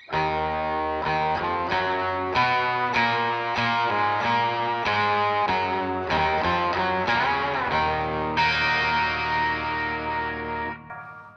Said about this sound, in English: and the mosaic on and a delay and reverb for this kind of Quentin Tarantino-ish riff in the chorus